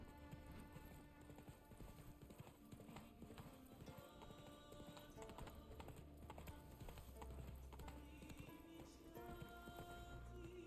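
Roach, a horse in The Witcher 3, gallops with a rapid, continuous clip-clop of hooves that stays close and even throughout, backed by a faint low rumble.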